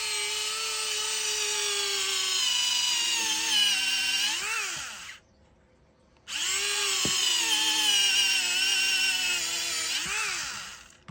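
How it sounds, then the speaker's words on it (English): Tamiya hobby drill boring into mild steel, a high whining motor that strains and drops in pitch, stops briefly, then starts again with another long straining run, close and loud. "we better do it one more drilling test. This is going to be tough. This is a bit of mild steel"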